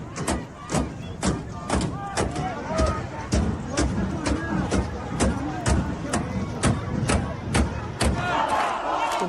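Angry protesters in Karaj, Iran chant in a loud crowd, with rhythmic collective shouting punctuated by sharp regular claps or thumps about every half second, continuing throughout.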